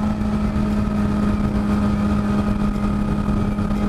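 A 2008 Kawasaki ZX6R motorcycle engine revs hard, near and loud, with a steady high whine and constant rumble held throughout, and no talk.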